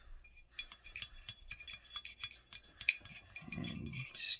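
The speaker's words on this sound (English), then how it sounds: "Now we can go through and scrub down anything else you'd like." Brush scrubbing parts of a Ruger 22 Charger pistol during cleaning: short, close scratchy rubbing strokes in an irregular rhythm, with a few light metallic clicks, ending in a slightly louder scrub.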